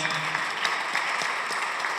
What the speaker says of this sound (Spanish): Un aplauso para los seis compañeros y compañeras